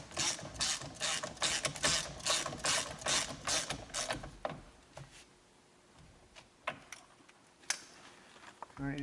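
A ratchet snugs bolts on a transmission stager on a Ford F-150 with a 10R80 transmission, giving fast bursts of loud, close clicking for several seconds, then sparse single clicks and light metallic clanks.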